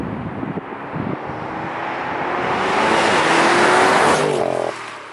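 BMW M550 in Sport Plus with manual shifting accelerating hard, its engine note rising steadily in pitch and loudness over several seconds before a sudden drop at a gear change, heard close and alone.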